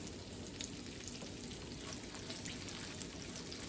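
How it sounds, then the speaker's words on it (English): Washed, drained cabbage fries and cooks down in a pan, a quiet steady sizzle with faint stirring crackles and no voices. "And we're going to cook this cabbage right on down."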